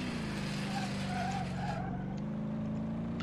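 Engine of a car accelerating hard in BeamNG.drive, a steady loud roar with a droning low tone and rising whine, tire noise blending in throughout.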